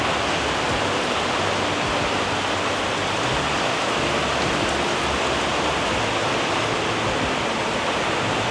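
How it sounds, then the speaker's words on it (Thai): Heavy rain pours down on the third-floor deck of a parking garage in a steady, dense roar of hiss and splatter, loud and unbroken throughout, with no voices. "ฝนสาดแรงเลย"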